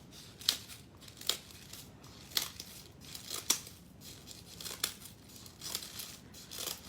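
Scissors snip through cardstock from a September 2021 Paper Pumpkin craft kit, a series of crisp, close cuts in an irregular rhythm with paper crinkling between them, no talking.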